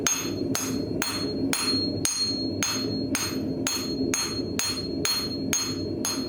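A blacksmith's hammer forges a knife blade on an anvil, about a dozen loud ringing strikes in an even, steady rhythm, close by and with no voices.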